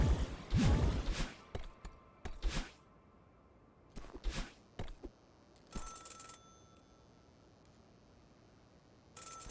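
A telephone rings in the video game Celeste, in short electronic bursts that start and stop abruptly between brief clicks and quiet gaps.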